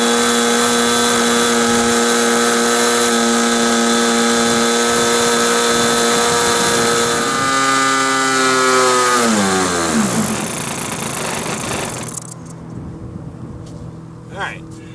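Glow engine of a Kadet LT 40 model airplane runs loud and close, its high buzzing drone falling in pitch as it winds down and cuts out, leaving near silence with a small bump.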